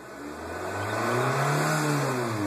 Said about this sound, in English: The car's in park right now. It's floored.